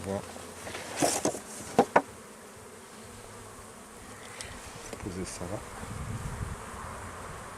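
A swarm of honeybees hums steadily around an opened hive on a fine day, a dense continuous drone broken by a few sharp knocks and clicks early on, with a brief voice speaking.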